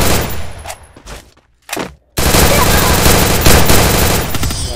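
Bursts of MP40 submachine gun fire in COD Mobile: a short automatic burst, brief pauses, then a sustained loud stream of rapid shots running to the end.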